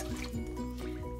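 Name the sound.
water poured into pot of rice and dry seasonings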